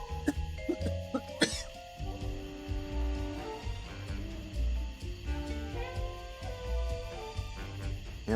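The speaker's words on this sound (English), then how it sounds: "this coughing's giving me a headache" A cartoon character in the PS3 game Sly Cooper: Thieves in Time coughs in a short burst early on, followed by game music and effects.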